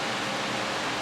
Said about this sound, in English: Excuse the noise, guys, it's a little warm here, so I got the fan going.